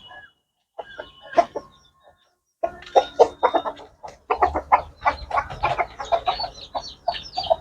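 Backyard hens and a rooster cluck and squawk in busy overlapping bursts, close by, with short gaps before the flock grows louder and more agitated.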